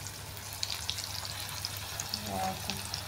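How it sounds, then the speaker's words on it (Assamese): Pumpkin pieces frying in a pan make a soft, steady sizzle, quiet and close, with a low background hum and no talking. "এয়া মোৰ কোমোৰা ভাজিখিনি হৈ গৈছে"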